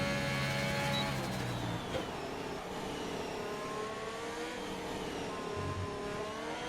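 A Ferrari race car in a racing video game runs a fast lap of the Mexico Grand Prix on soft tyres, its engine a sustained mid-pitched roar with rising and falling revs through gear changes.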